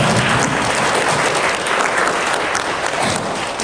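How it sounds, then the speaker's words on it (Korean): A church congregation claps together at the close of a prayer during a Sunday service, a dense, loud, continuous wash of applause filling the room. "박수로 끝내시기 바랍니다."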